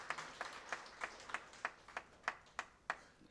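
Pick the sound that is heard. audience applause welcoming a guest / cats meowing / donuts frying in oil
audience applause welcoming a guest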